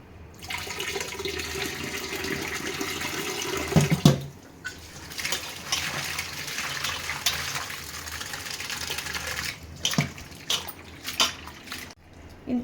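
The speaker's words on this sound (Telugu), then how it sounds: "ఇట్లా ఇట్లా కడిగి ఒక రెండు సార్లు కడుగుతాయి ఇట్లా బాగా కడిగేసి" Bitter gourds are washed under running tap water, a steady close splashing rush that breaks off briefly and then resumes in uneven gushes and sloshes as the gourds are handled.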